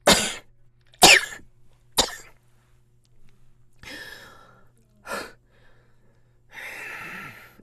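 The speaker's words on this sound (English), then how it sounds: "And then she starts to cough." A woman coughs in sharp bursts, three quick ones then a few more spaced out, with breathy sighs and throat sounds between, close and alone.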